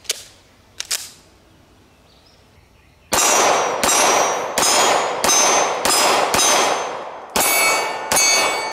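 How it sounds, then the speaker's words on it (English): A metal pistol magazine from a BUL Armory SAS II SL-AIR drops with a couple of light clanks on the ground, then a rapid string of sharp, loud shots rings out close by, with no voices. "Oh, I hate to drop such a pretty mag on the ground"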